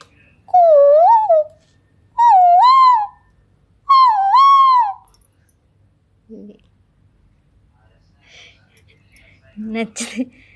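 Three loud, close, rising whistled koel calls repeat at an even pace, then fade into quiet with a few faint rustles and a short burst of noise.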